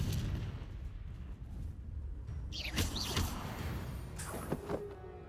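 Confringo blasting spell in Hogwarts Legacy goes off as a burst of crackling impacts around the middle, followed by a second sharper blast near the end, over a steady low game-ambience rumble.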